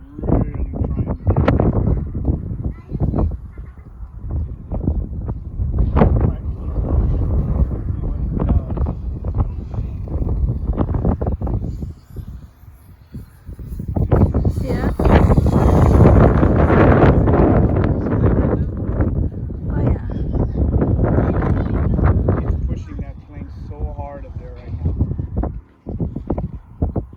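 Strong, gusty wind buffets the microphone at a flying field for an E-flite P-51D Mustang 1.5m radio-controlled model plane, a loud continuous roar with surging gusts throughout, swelling hardest midway.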